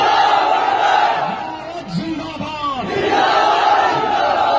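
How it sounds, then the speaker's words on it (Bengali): A large student protest crowd chants the Nara-e-Takbir slogan, loud massed voices rising in rhythmic shouts with a brief dip in the middle. "সেখানে মুসলিমরা সম্পৃক্ত হয়েছে নারায়ে তাকবীর স্লোগানের মাধ্যমে"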